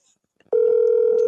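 After a faint click, a phone call connects and one loud, steady electronic tone begins and holds as the call goes to voicemail.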